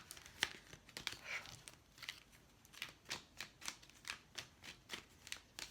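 Tarot cards being shuffled by hand, a run of crisp papery riffles and slaps repeating in a steady rhythm, close and fairly quiet with no talk.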